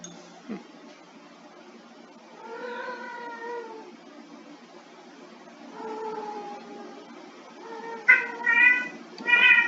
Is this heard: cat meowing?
yes